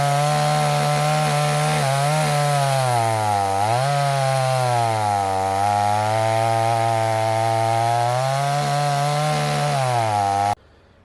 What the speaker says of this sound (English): that little 13-inch chainsaw is potentially not going to be able to cut through this because it is quite a thick bloody